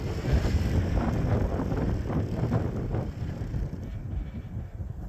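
Wind gusts of about 15-20 mph buffet and roar across the microphone in a continuous rumbling rush, strongest at first and easing slightly toward the end.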